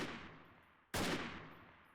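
Gunfire in the video game Freeman: Guerrilla Warfare: a single sharp shot cracks loudly midway, after the fading tail of an earlier report, with no talk.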